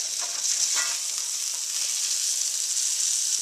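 Breakfast food frying in a pan, a steady bright sizzle that holds evenly throughout, close and loud, with a few faint scraping stirs near the start and no voices.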